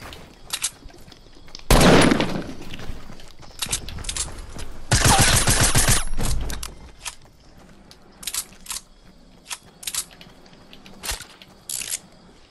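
Fortnite gunfire comes as loud bursts of automatic fire and sharp single shots in irregular clusters, interspersed with quieter clicks and pops.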